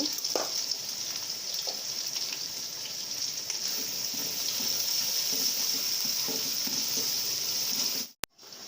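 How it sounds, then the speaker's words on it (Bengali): Onion frying in oil for plain pulao gives a faint, steady sizzle that runs almost unbroken, with a few soft knocks, before cutting off abruptly near the end. "পেঁয়াজটা ভাজা হয়ে গেছে"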